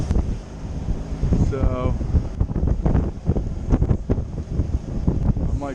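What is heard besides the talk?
strong wind blowing at 30 knots on a sailboat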